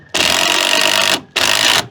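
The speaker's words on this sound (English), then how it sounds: "I'm just gonna go backward with the drill a little bit to make a pocket," A cordless drill runs in two bursts into old, weathered wood, first backing out to cut a pocket and then driving a screw forward; the whirring motor is loud and close, about a second, then a short pause before a second shorter run.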